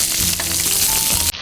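Onions frying in a hot pan give a brief, loud, steady sizzle with light stirring, cut off abruptly at the end.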